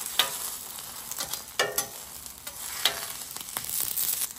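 Vegetables and garlic fry in a little oil on a griddle for steak tacos, a steady close sizzle with scraping and stirring clicks on top and no talking.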